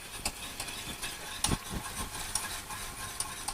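Butter being stirred into hot caramel in a pan for a tarte tatin, with a few soft scraping strokes and a brief louder clatter near the middle over a low, steady background hiss.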